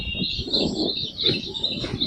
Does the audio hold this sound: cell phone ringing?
no